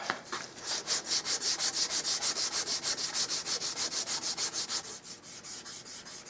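A belt sander works a wooden stock for a custom Mauser rifle in steady back-and-forth strokes, each pass a rising and falling rasp repeated in an even rhythm of about two dozen strokes, close and alone with no talking.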